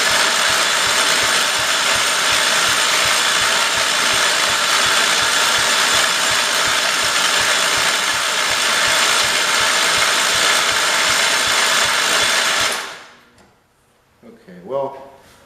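A Kohler engine in a 1968 112 garden tractor runs with a loud, steady, rattling mechanical drone for about thirteen seconds, then cuts off abruptly, leaving near silence with a few faint knocks and clunks.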